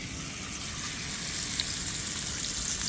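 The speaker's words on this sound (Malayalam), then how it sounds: "നമ്മൾ പിടിച്ച മീൻ നമ്മൾ വറക്കാൻ പോവുകയാണ്." Fish caught by rock fishing frying in hot oil, giving a steady, dense sizzle that holds at an even level throughout, close up and without speech.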